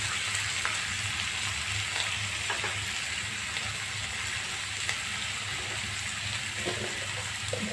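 Chopped snake gourd with soaked chana dal sizzles steadily in a hot pan as it is sautéed for pudalangkaai poriyal. The frying hiss is loud and continuous, with faint stirring scrapes and no talking.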